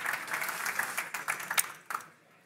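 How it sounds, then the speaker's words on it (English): Applause from a conference audience as two CEOs come on stage at a sports innovation event, a short, moderately loud burst of scattered clapping that thins out and fades within about two seconds. "Please give them a warm applause."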